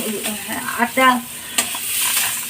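Cauliflower bharta being stirred in a pan, with a soft continuous sizzle and scraping strokes and a few brief clinks of the utensil against the pan.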